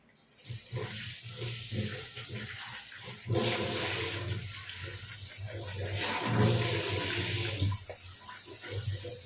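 Tap water runs steadily into a sink while cleaned crab is rinsed by hand, with splashing and swells of louder flow, close and continuous, no talk.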